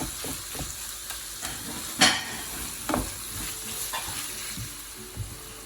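Minced meat with pepper, cumin and sweet paprika is stirred in a frying pan, a steady sizzle running beneath repeated scrapes and a few sharper clacks of the spoon, close up and without speech.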